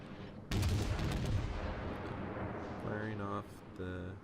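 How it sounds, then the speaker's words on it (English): A salvo of high-explosive shells fired from the cruiser Pensacola in World of Warships, a heavy booming blast followed by rumbling decay, with tonal game interface sounds after it. "give this battleship one more salvo of HE, maybe try and set him on fire some more"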